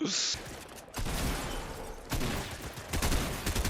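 Gunfire in Fortnite erupts in repeated bursts of loud shots, with short bursts and pauses across the few seconds.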